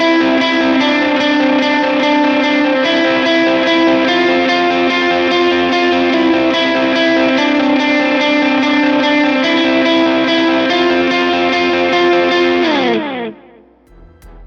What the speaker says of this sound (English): So that is just an alternating picking part with a lot of delay.